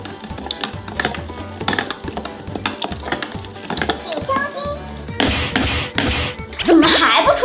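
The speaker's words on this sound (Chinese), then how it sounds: "充分搅拌" Someone stirs a pretend magic potion in a pot with busy, uneven scraping and clattering strokes, while children chatter and call out close by.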